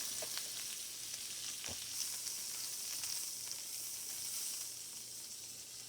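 Garlic and herb butter sizzles in a pan, a soft, steady hiss with faint crackles and pops throughout, fairly quiet and alone without voices.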